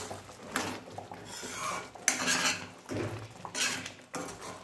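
Rice kheer with cardamom powder being stirred in a metal pot, a spoon scraping and clinking against the sides in repeated close strokes with brief pauses between.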